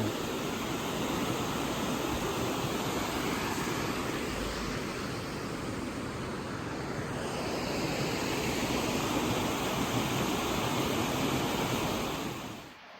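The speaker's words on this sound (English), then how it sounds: "Made it to the waterfall." A waterfall in Cheyenne Canyon, a steady broadband rush of falling water heard up close, loud and unchanging for the whole stretch with no voices.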